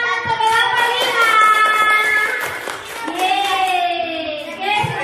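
A class of schoolchildren clap for a group that has made ice cream, scattered hand claps under loud, cheerful children's voices and a teacher talking.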